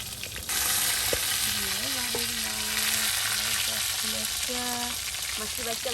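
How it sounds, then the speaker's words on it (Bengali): Fish frying wedding-style in hot oil for iftar in a Mymensingh village kitchen: a steady, close, dense sizzle that runs unbroken throughout. "ভাবি কিন্তু বিয়ে বাড়ির মাছ ভাজা করতেছে ইফতারের জন্য।"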